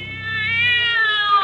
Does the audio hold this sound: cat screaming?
yes